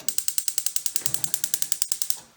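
A stove burner igniter ticks rapidly as the heat is turned on under a griddle or frying pan, a steady run of about twenty close, crisp clicks in quick, even rhythm.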